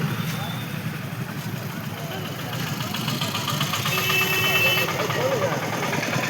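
Engines idle in packed traffic near the Goga Maharaj temple fair at Shebhar, a steady low rumble of vehicles close by, with a person talking over it throughout.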